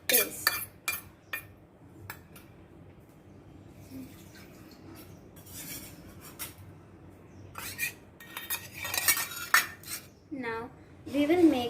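Patra batter with tamarind pulp being stirred in a pot gives irregular metallic clinks and scrapes of a spoon against the pot, with quieter wet mixing between bursts and louder clatter near the end.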